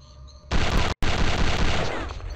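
Weapon fire in Return to Castle Wolfenstein: a loud, harsh blast of sustained automatic fire, cut by a brief gap and then roaring on again at close range.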